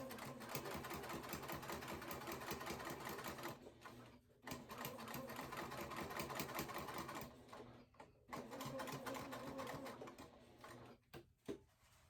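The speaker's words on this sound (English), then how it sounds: "we're gonna sew down the middle" A sewing machine stitches down the middle of a vinyl tote bag, running in steady rapid bursts broken by short pauses, close and fairly quiet, with no talking.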